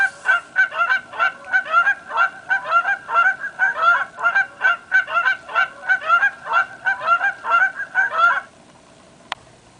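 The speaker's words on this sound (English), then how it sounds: "Not only does it have illustrations, it has what the birds actually sound like." Goose-like honking calls played back from a backyard birdsong guide book, a rapid steady series of loud nasal honks for about eight seconds, then stopping abruptly.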